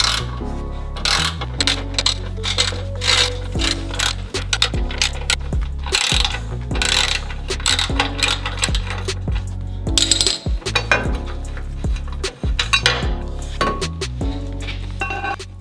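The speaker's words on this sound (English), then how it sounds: "before we install our transfer case skid plate, we're gonna remove this crossbar piece. So these are each just 4 12-millimeter bolts" 12 mm bolts being removed from the transfer case crossbar of a Toyota Tacoma with a ratchet: close, rapid clicking of the pawl in bursts, with metallic clinks and short pauses between runs.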